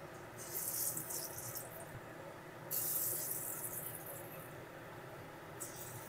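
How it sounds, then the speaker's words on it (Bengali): Ridge gourd fritters frying in hot oil, a steady faint sizzle with brighter hissing swells that rise and fall, heard alone with no talk. "এই একই রকম ভাবে সব ঝিঙের বড়াগুলো ভেজে নেব।"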